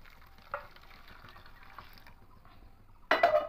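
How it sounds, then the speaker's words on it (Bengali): Semolina is stirred with hot water in a cup, giving faint, soft scraping with a small knock, then a short, louder clatter near the end. "এবার গরম জল দিয়ে ভালো করে এটাকে মিশিয়ে নেব"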